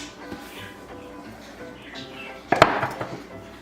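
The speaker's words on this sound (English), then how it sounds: "So now with my knife here, I am just going to cut off the edges." A kitchen knife slices the edges off rolled cinnamon roll dough, one sharp knock and scrape against the board near the end after a stretch of quiet handling sounds.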